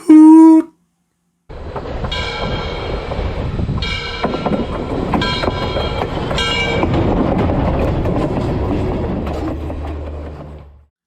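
A sound-effect train gives a short toot, then after a brief gap rolls past with clattering wheels and several sustained horn blasts before fading out.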